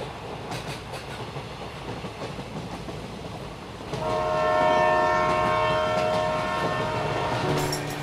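A passenger train runs with a steady rumble and rail clatter, then a long loud horn blast joins midway and holds to the end; no talking.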